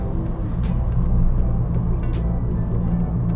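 Modified Honda Fit GP4 Hybrid RS with a CVT gearbox cruising in simulated 7th gear, its engine and exhaust a steady, moderate low rumble under road noise, heard from inside the car with no talk.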